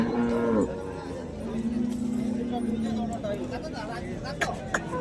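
Water buffalo at a Marwari livestock market in Pachor low mooing for about a second at the start, close and loud, followed by a long steady moo amid the crowd's background chatter and people talking nearby.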